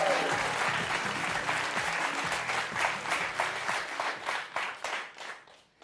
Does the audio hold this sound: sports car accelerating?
no